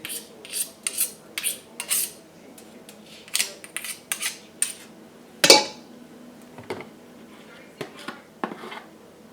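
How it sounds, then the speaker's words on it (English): A utensil scraping olive oil soap mixture back into a container, a series of short metallic scrapes and clinks with one sharp louder knock midway and quieter gaps between strokes. "So I'm going to take it and just scrape those things back into the container."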